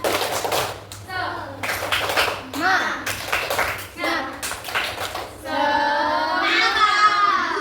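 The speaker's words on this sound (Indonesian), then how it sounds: "tepuk semangat" Children in a class lesson perform the tepuk semangat spirit clap: bursts of rhythmic clapping in a set pattern, alternating with chanted young voices.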